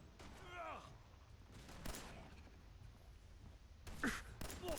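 Gunfire in the video game Fallout 4: a few sharp shots scattered through the clip, with a burst near the end over steady game background noise, mostly separate from speech.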